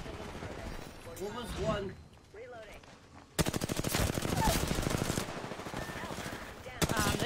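Apex Legends gunfire: after a stretch of talking, a long sustained burst of rapid automatic shots erupts loud and close, running for several seconds with a fresh burst near the end.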